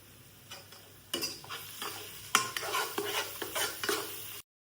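A spoon stirs garam masala and chicken masala through chicken pulao in a hot pan, making a run of scraping strokes over a soft sizzle, close and fairly quiet.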